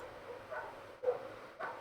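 Dogs bark in the background, faint and distant, with a few short separate barks and yips spread over a quiet room tone.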